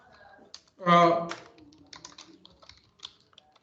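Clicks of typing on a computer keyboard, irregular and fairly quiet, with a brief voiced sound partway through.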